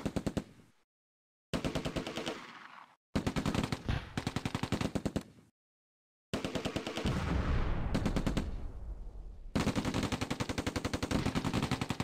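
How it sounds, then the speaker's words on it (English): Machine gun fire in the war strategy game Close Combat: A Bridge Too Far comes as loud rapid bursts of rattling shots separated by short silences, with several longer sustained volleys. "Kang's machine gun opens fire at the location of the enemy mortar."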